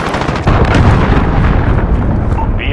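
A cruise missile blast in Call of Duty Modern Warfare multiplayer, a loud, dense rumbling explosion that roars continuously and stays heavy for the whole moment.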